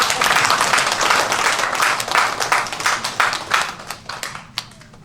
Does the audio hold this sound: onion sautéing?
no